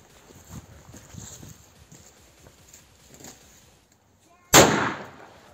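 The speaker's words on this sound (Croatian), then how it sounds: "Evo, kao što ste čuli, to je bio veliki pirat. Iako, ovo je, ja mislim, najosnovnija petarda" A Veliki Pirat firecracker goes off outdoors in one sharp, loud bang that decays quickly, after a few seconds of quiet rustling and faint background sound.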